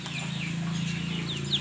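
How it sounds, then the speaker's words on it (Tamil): Kattu seval fighting roosters and hens on a country chicken farm cluck and chirp now and then over a steady low motor hum, the birds fairly faint and close by. "இது எல்லாமே கட்டு சேவல், இதுபட்ட கோழி."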